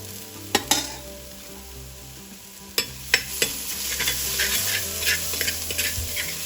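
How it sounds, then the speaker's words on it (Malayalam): Crushed ginger and garlic fry in a pan for rasam, a constant sizzle under sharp spoon clanks and scrapes against the metal, with a burst of several quick stirs near the end and no talk. "ബാക്കിയെല്ലാം ചതച്ച് വെച്ചിരിക്കുന്ന എല്ലാം ചേർത്ത് കഴിഞ്ഞ് ഇത് വഴണ്ട് വിട്ടിട്ട്"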